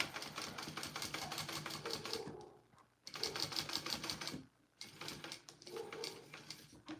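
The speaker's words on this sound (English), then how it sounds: "All right, so I'm going to sew top and bottom on that." A sewing machine stitches a vinyl bag in three runs of rapid, even mechanical clatter, each separated by a short pause, close and fairly loud.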